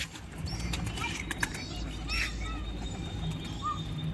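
Pigeons flying in to a rooftop loft, with soft bursts of flapping wings and faint chirps and coos over outdoor background noise, a few voices murmuring in the distance.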